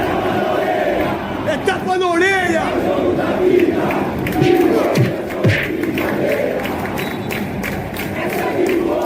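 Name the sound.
played sound effect of football fans cheering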